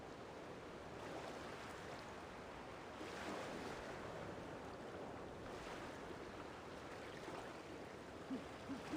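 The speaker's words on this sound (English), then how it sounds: "The wind is picking up." Wind blows through the game world of Infinity Nikki, a steady soft rushing breeze that swells a little in gusts, fairly faint and with no talking.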